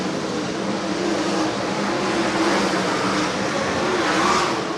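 USAC Silver Crown race cars lap Salt City Speedway, their engines a steady, somewhat distant roar that swells slightly without any clear single pass.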